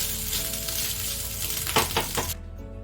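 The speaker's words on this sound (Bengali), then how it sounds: "আর সামান্য একটুখানি চিনি দিয়ে এটা নেড়ে চেড়ে নামিয়ে নেবো আর বেশিক্ষণ ভাজবো না" Kadhi sizzles steadily in a frying pan as a little sugar is stirred in, with a few clinks of a spoon against the pan near the end before the sizzle cuts off abruptly.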